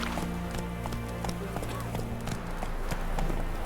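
The horse Roach gallops in The Witcher 3: Wild Hunt, hooves clip-clopping in a quick, steady rhythm over a continuous bed of in-game ambience.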